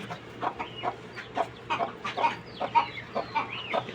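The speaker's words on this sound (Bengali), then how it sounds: "এই হচ্ছে সেই চিনাশের বাচ্চাগুলা" High-pitched peeping from white Muscovy ducklings, repeated chirps coming in quick bursts over a low steady hum.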